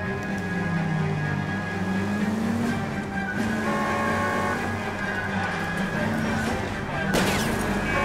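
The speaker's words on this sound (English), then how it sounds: "Car chase time." A 1940s-era car from L.A. Noire roars through a chase, engine revving up and down with tonal whine and a sharp burst near the end, while voices talk over it.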